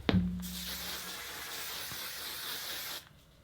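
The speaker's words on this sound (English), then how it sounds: "Then we'll take some dry texture spray." A steady aerosol hiss of dry texture hair spray runs for about three seconds after a short click, then cuts off abruptly.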